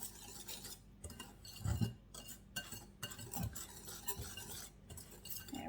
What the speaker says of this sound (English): This is going to work just fine though, just to kind of give it a good whisk.